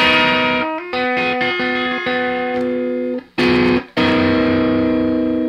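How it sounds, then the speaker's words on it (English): Loud electric guitar through a Monoprice 611600 distortion mini pedal, playing sustained chords and notes, with a short break before ringing out again. "what I had been playing with the distortion on"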